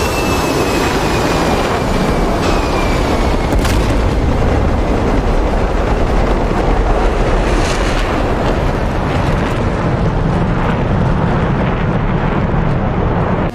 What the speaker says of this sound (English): Great bombs, guys.